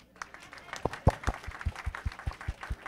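A small group claps their hands in a loose, uneven rhythm, sharp separate claps sounding close by with some overlapping, while a voice murmurs faintly underneath.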